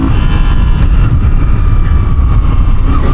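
2024 Moto Guzzi V7 Stone Corsa motorcycle accelerating hard, a loud continuous low engine drone mixed with wind rumble from onboard, with no talking.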